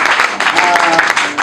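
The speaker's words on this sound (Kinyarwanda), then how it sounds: "reka twongere amashyi" Applause from mourners at a Rwandan funeral gathering marking the end of a mourning period: close, steady clapping that carries through the whole clip, with a voice talking over it.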